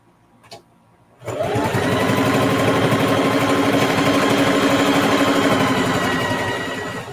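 A sewing machine stitches a quilted zipper pouch, starting after a second of near silence with one small tap, then running steadily and loudly for about six seconds before easing off slightly.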